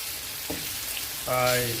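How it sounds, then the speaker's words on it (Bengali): Shing fish cooking bhuna-style with tomato in a hot pan, a steady close sizzle and hiss of frying that swells louder partway through, with no voices. "শিং মাছ দিয়া টমেটো দিয়া বুনা রান্না করতেছি।"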